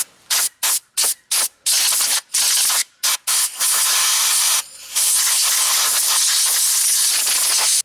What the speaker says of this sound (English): So I got most of the heavy stuff off with the air compressor.